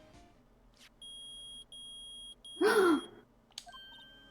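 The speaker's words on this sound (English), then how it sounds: "It's beeping. The metal detector found something. Sure is loud enough about it." Loud electronic beeping from a metal detector in the Phoenix Wright video game, two long steady tones followed by a brief burst of noise, with a short vocal exclamation near the end.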